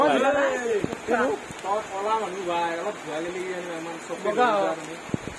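Steady rain falls on a rainy day, a continuous hiss running beneath a person talking almost throughout.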